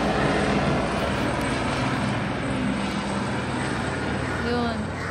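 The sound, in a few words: helicopter circling overhead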